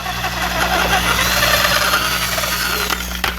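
A power drill whirs steadily while enlarging a hole in a 1/4 scale Thor model part, a close, continuous motor whine with a brief catch near the end.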